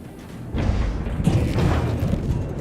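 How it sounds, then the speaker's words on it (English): Deep torpedo launch from a submarine in the naval game World of Warships, a low muffled boom and rumbling thud that swells in after a quiet start and sustains at moderate level without speech. "Gotta get shallower before I fire this torpedo at him."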